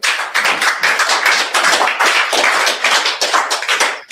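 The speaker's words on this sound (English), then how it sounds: "can we give them a round of applause?" An audience at a university Wikipedia outreach event gives a sustained round of applause, dense steady clapping close and loud for about four seconds, ending abruptly.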